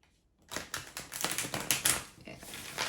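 A deck of tarot cards is shuffled close by after a brief silence, a quick run of crisp riffling taps and flutters with a faint voice in the background.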